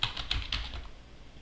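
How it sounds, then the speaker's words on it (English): Soft, close keystrokes tap out a short command on a computer keyboard, a quick run of about six clicks that trails off into quiet. "So then after this, you just type Python"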